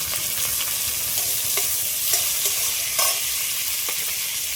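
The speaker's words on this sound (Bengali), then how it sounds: "টমেটো আর পেঁয়াজটা তো ভালো করে ভেজে নিয়েছি।" Onion and tomato sizzling in a pan, a continuous bright crackle of frying with occasional stirring scrapes and pops, close and steady, with no talking.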